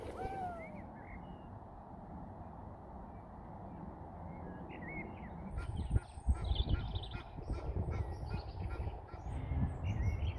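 Loud, honking calls from a goose or duck perched in a tree ring out over a low rumbling background by the River Thames, growing noisier and more insistent partway through.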